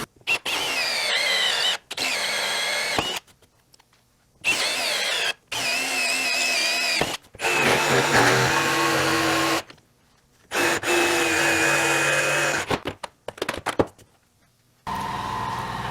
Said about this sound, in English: So now that we've rough cut our shape onto our piece of material